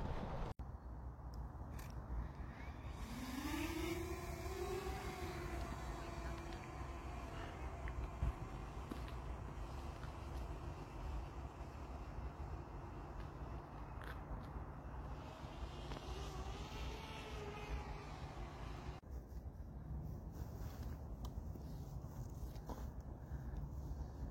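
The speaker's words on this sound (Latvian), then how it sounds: "Aizies un tad mēģinās uzcelt viņu gaisā, to dronu." A drone lifts off and climbs toward a television tower, its faint, steady rotor whine rising in pitch, then settling into a continuous hum with no voices.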